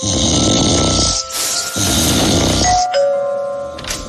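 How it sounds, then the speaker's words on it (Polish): Heavy rumbling snoring in a Polish TV advert for a snoring remedy, two long loud rasping breaths that fill most of the stretch, followed by a short chiming tone near the end. "Dochodzą mnie słuchy, że pani mąż chrapie jak niedźwiedź."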